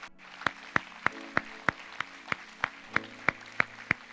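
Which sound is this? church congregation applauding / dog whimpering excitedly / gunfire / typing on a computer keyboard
church congregation applauding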